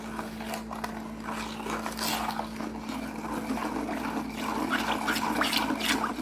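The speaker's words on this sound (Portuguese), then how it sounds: "Eu vou pôr 50 ml de água sanitária para sair esse cheiro forte do óleo." Bleach being poured into a homemade bar-soap mixture made with used oil, a continuous liquid trickle and splash that grows slightly louder over several seconds, under a faint steady hum.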